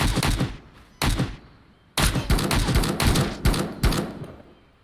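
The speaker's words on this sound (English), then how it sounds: "Why are people shooting at us?" Gunfire crackles in the video game Road to Vostok: several loud, close bursts of shots separated by short pauses, each with a sharp attack and a fading echo, with no talking over them.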